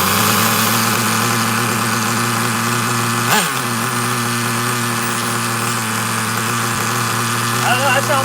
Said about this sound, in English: Let's double check this idle real quick, make sure I don't have to adjust the idle up.